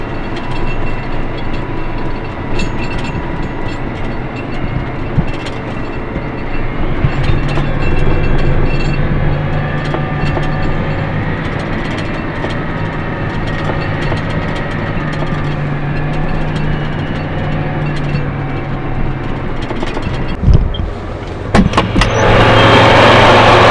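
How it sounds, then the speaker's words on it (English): A farmer's vehicle is driven home over rough, snowy Iowa winter roads, giving a steady, loud interior rumble with a low engine tone, rattles and clunks throughout. A harsher burst comes near the end. "But I'm gonna drive now."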